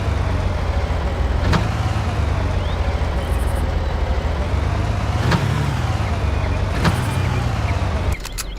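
A car drives along a dirt track in Far Cry, its engine droning steadily and loudly from start to finish with a few faint clicks and knocks along the way, no talking.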